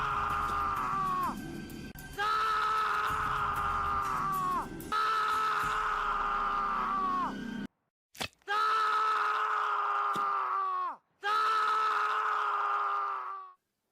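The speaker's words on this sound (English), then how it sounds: "that scream, which is used over and over" A scream reused again and again in Neil Breen's film I Am Here....Now sounds several times in a row. Each is a sustained, wavering cry that bends down at the end, with short gaps of silence between the later repeats.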